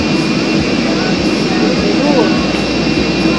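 Aircraft engine drone during a passenger flight, a constant loud cabin roar with a high steady whine and no break throughout.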